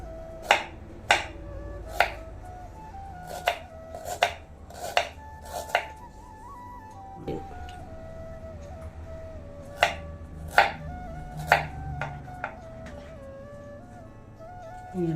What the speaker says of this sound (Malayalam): നീളത്തിൽ കനം കുറച്ച് ചെറുതായിട്ട് അരിഞ്ഞ് ഇഞ്ചി അതിനകത്തിടണം.